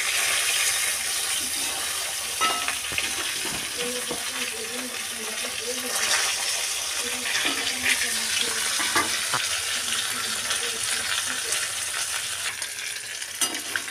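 Fish sizzles and spits steadily in hot oil in a pan for the whole stretch, with occasional clinks and scrapes of a utensil turning the pieces.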